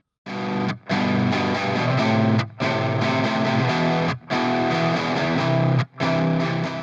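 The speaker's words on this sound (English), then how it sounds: "track 1 will make up the lower portion of the sound, only playing the first and third or first and fifth of each chord" Distorted electric guitar plays a lower-register chord progression, only roots with thirds or fifths, in thick sustained strums broken by short gaps between chord changes, loud and close with no voices.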